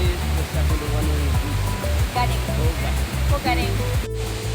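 Steady rushing water from a waterfall near Ubud, Bali, forms a broad continuous roar, with music playing over it throughout.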